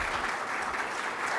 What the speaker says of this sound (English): You got quite an enthusiastic round of applause there